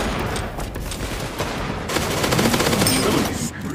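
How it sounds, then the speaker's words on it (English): Rapid machine gun fire in the arena shooter Wormhole Wars, dense crackling bursts that build into a heavier, continuous stream of shots in the second half, with game effects mixed in. "Machine gun? What is this?"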